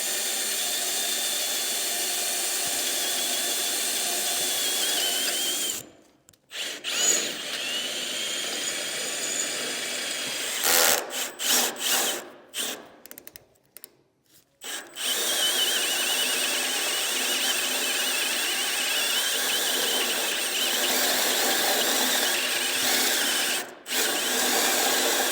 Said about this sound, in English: I'm gonna take a smaller drill bit, make a pilot hole, and then I think I'm just gonna use a step bit and kind of go up from there to each size